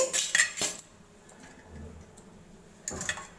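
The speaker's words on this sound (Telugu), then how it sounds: "పెరుగులో ఉల్లిపాయలు పచ్చిమిరపకాయలు వేసి కలిపేసుకోవాలి." Onions and green chillies are mixed into curd with a spoon, giving a few sharp metallic clinks and scrapes against a bowl at the start and end, with quieter rustling in between.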